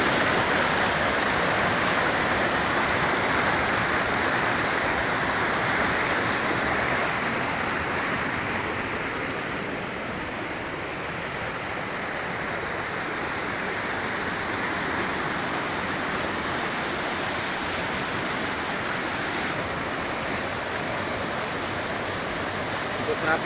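Rapids at a river rafting site in Boyolali: a continuous, dense roar of rushing water, loud and steady throughout with a slight dip midway, no voices standing out.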